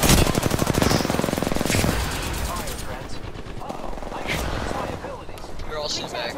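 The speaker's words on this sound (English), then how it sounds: "We're all shooting back." Rapid bursts of automatic gunfire from a video game firefight rattle loudly for the first couple of seconds, then thin out into scattered, quieter shots beneath a player's voice.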